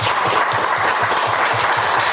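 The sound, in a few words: congregation applauding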